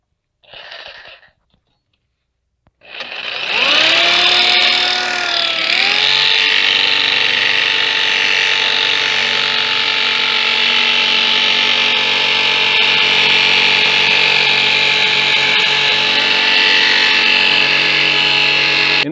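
A power tool spins up with a brief burst, then whines steadily and loudly while cutting the metal of an ammo can, a sustained close tonal grind with slight pitch dips.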